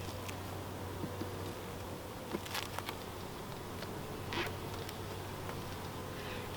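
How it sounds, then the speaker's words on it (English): Honey bees buzz around a new hive in a soft, steady drone outdoors, with a few brief louder passes as individual bees fly close. "There are bees up here."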